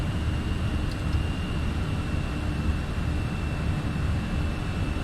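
Airbus A320 jet in Microsoft Flight Simulator rolling for takeoff, a steady, loud broadband engine roar with deep low rumble and a faint constant whine, sustained without pause.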